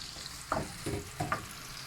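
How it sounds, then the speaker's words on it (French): Oil and a melted knob of butter sizzle in a hot pan for a chicken cream roll, a steady frying hiss with a few soft stirring scrapes, close and moderately quiet, with no voices. "Alors voilà, mon huile, là, elle a chauffé. Ma noisette de beurre, elle a fondu."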